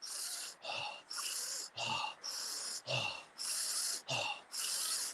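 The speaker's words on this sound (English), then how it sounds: "Breathe in low." Fast, deep breathing in a guided breathwork session, roughly eight forceful breaths in steady rhythm, close and hissing, with an airy rasp on each one.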